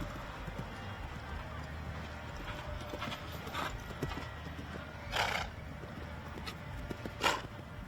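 Horses work around a show arena circle at the Royal Adelaide Show, their hoofbeats soft and distant under a constant crowd and arena murmur, with a couple of brief louder bursts standing out.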